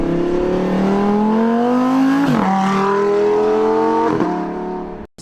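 A 2020 Lamborghini Huracan Evo engine drones loud and close as the car drives under manual shifting, its pitch climbing steadily with two quick gear changes that briefly dip the tone before it rises again, then cuts off sharply at the end.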